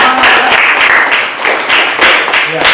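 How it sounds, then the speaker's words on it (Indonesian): Students in a classroom clap their hands together for a few seconds, a dense, fairly loud patter of many hands with some voices mixed in. "mari kita tepuk tangan dulu untuk kita sendiri"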